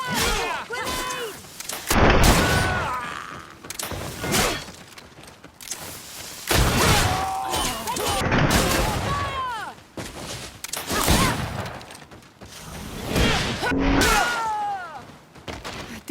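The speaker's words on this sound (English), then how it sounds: "Watch out! Grenade!" A grenade blast in the video game GreedFall arrives as a series of heavy booms and gunfire-like bursts, mixed in with loud combat noise and shouting voices.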